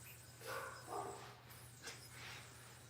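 A dog barking indoors, a few short, faint barks in quick succession against a low electrical hum, with no talk over them.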